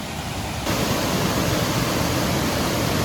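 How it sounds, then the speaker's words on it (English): A river waterfall at Arbelot Falls roars in a loud, steady broadband rush that swells suddenly louder after a moment and holds constant. "there's the river and the waterfall just there"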